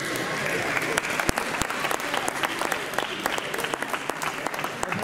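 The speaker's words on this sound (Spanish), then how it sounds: "Un aplauso." Audience applause at a poultry show award ceremony in Albelda de Iregua, La Rioja, a dense steady clapping crowd lasting the whole stretch with a few sharper individual claps standing out.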